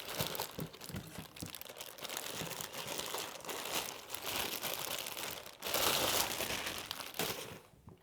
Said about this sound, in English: let's get this out of the plastic here and have a good look at it